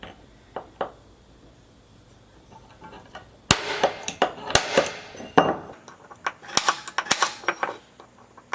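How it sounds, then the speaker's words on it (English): Sharp metallic snaps ring out one at a time, close and loud, as an automatic centre punch dimples metal on a Ducati Multistrada, each spring-loaded strike followed by a brief clinking ring. "I've got an automatic centre punch. Just going to put a dimple in the centre"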